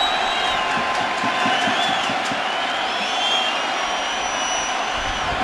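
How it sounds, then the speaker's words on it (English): Fans in the stands at a 1999 Braves World Series baseball game keep up a dense, even roar. Scattered whistles and whoops rise over the steady crowd noise. "You can hear the buzz going through the crowd."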